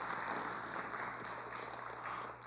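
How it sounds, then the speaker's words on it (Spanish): A church congregation gives a soft, sustained round of applause at the close of a sermon, a fairly faint and even patter of many hands under a steady hum, with no voices. "Démosle un aplauso al Señor, hermano."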